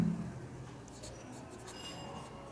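Handwriting a math answer, a soft continuous scratch of pen on paper with light strokes, close and quiet with no talk.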